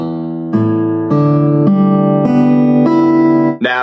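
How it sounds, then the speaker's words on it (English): Acoustic guitar open strings ring out one after another, six notes sounding in sequence and sustaining together, close and clear. "If I play my open strings, they're going to sound like this."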